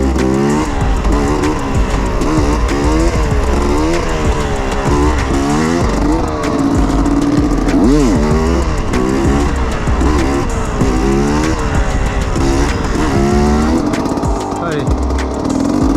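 A motorcycle engine revs hard and continuously during a wheelie, the pitch climbing and dropping in repeated surges, loud and close throughout.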